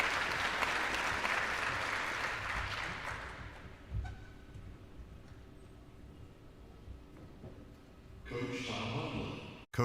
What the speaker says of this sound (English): Another round of applause for John Kropp